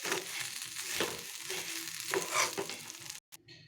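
Puffed rice (murmura) is stirred with carrots, chili and ginger in a hot pan, giving a continuous soft sizzle with scraping, rustling stirs before a sudden stop near the end.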